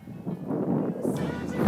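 Strong wind blows steadily outdoors on a warm December day of bass fishing, a broad, continuous rushing and buffeting close to the microphone, rising slightly near the end.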